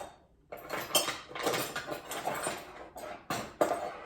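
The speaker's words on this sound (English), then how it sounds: "So let me grab," Metal teaspoon clinking and clattering against other utensils as it is picked out in a kitchen, a string of soft, fairly close metallic taps and rattles, no speech.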